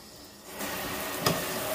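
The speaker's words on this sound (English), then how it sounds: "Or water the succulent." Running water from a kitchen sink tap gushes on with a sudden rise, then pours in a steady hissing stream, used to water a potted succulent during repotting.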